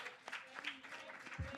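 Audience applause at an opening plenary session of a Latin American policy forum, a brief stretch of faint scattered clapping from a crowd heard at a distance.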